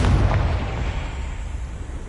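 A Confringo fire spell bursts in Hogwarts Legacy, a single heavy, close explosion thumping at the start and rolling off into a fading rumble.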